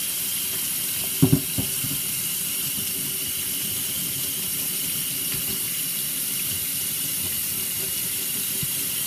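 Makeup brushes are rinsed under a steadily running tap, a continuous close hiss of water into a sink with a few brief knocks near the start and no talking.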